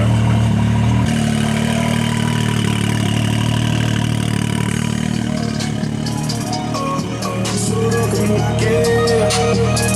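A Can-Am X3 side-by-side engine runs with its exhaust idling, a loud, steady close drone with slight shifts in pitch, joined by music playing over the engine noise.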